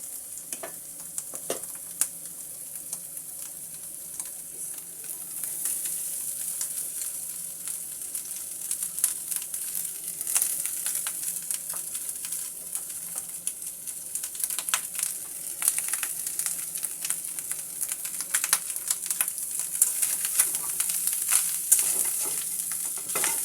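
Rice frying with egg in an oiled pan gives a steady hiss of sizzling throughout, close and even, with occasional soft scrapes and taps of stirring and no voices.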